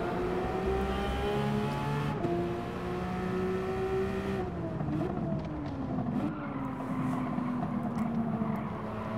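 A Porsche 992 GT3 RS races at Spa-Francorchamps in Gran Turismo 7, its engine a loud, continuous high-revving drone whose pitch rises and drops with gear changes, with no talking over it.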